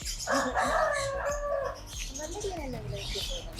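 Chickens at a pet farm call out loudly up close: a long, harsh cackling cry followed by shorter clucks, with faint background voices.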